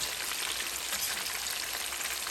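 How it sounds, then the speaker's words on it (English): Steady, dense sizzling and crackling of chicken 65 frying in hot oil over a low to medium flame, a constant close hiss with fine popping throughout and no voices. "continue frying the chicken"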